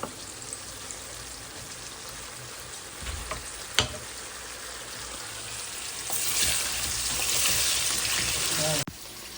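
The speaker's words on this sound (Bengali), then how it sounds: "মাছগুলো যে দিয়ে দিচ্ছি মশলার ভিতরে" Fried fish pieces go into a pan of spiced masala and cook with a steady soft sizzle, a few sharp clinks of utensils, and a louder, brighter hiss in the last few seconds.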